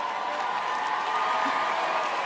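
Dense, steady applause fills the room from a large audience at the Flammes Awards show in Paris, with faint cheering mixed into the continuous clapping.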